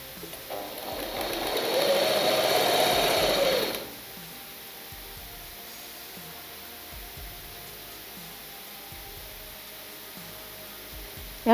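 A sewing machine runs steadily for about three seconds while stitching blouse lining fabric, then stops, leaving a quiet room with faint handling noises and a sharp sound at the very end.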